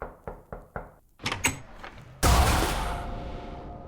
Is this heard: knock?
yes